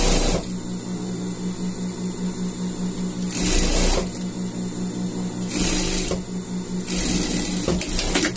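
Overlock serger stitching and trimming the ribbed seams of a knitted men's sweater, a steady loud mechanical whir with a rhythmic hum, running in several bursts separated by brief pauses as the fabric is repositioned.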